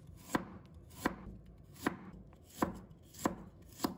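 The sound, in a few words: knife slicing ginger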